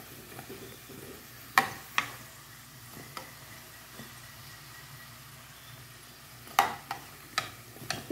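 Polvilho biscuits fry in a pan with a steady low sizzle, broken now and then by sharp clicks and taps of a utensil against the pan.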